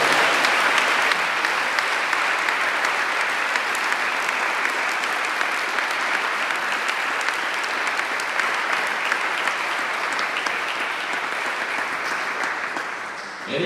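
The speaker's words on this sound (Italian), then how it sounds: "a cui vi chiedo un applauso" A crowd at the launch of a 3x3 basketball tournament bursts into sustained, even applause that holds strong for over ten seconds before starting to fade near the end.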